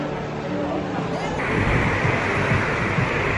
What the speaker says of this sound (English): It is way too windy.